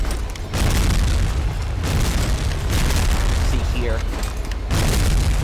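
Heavy booms from grenades bursting against a tank in Medal of Honor Rising Sun, set among the Marines' evacuation of the Philippines, roll continuously through dense battle noise while someone talks over them.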